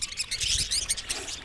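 Budgies in a walkabout aviary give quick, high chirps and twitters in rapid overlapping bursts, fairly faint and close, with no talking.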